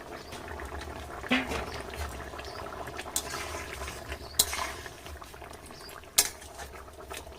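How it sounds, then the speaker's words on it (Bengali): Fish curry with bhetki fish and potato simmers in a pot, a low continuous bubbling with a few sharp clinks of a utensil against the pot. "মাছটাকে ঝোলের সাথে আরও পাঁচ মিনিট ফুটিয়ে নেব"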